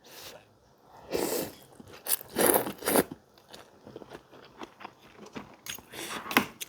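Crunchy bites and chewing of banana stem curry with rice noodles, close to the mic, in irregular bursts with soft scraping between mouthfuls.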